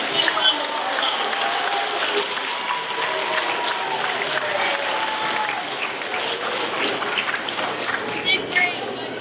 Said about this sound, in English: Let's give Richie a big round of applause.